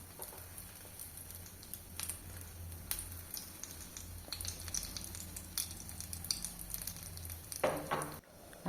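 Brinjal slices sizzle and crackle steadily in hot oil for the whole stretch, with sharp spits and a brief clatter of a lid or utensil near the end; no one speaks.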